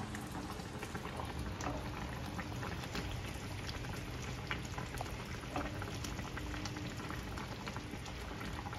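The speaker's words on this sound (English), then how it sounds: "So the ribs have been simmering for about 45 minutes." Sweet and sour pork ribs simmer in a thickening sauce, a dense, continuous bubbling and popping that stays steady and close for the whole stretch, with no voices.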